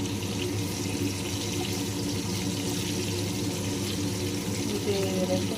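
Masala-marinated kala fish fries in hot oil, a steady, even sizzle that carries on without a break.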